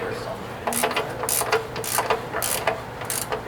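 Ratchet wrench tightening the frame-mounted bolts of a Strike rock slider on a 4th Gen 4Runner, heard as bursts of quick clicking ratchet pawl strokes at close range, repeating in short rhythmic groups.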